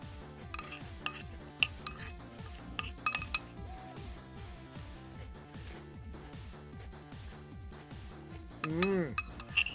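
A spoon clinks repeatedly against a bowl during eating, light metallic ticks scattered over a steady rhythmic background of music, with a brighter ringing clatter near the end.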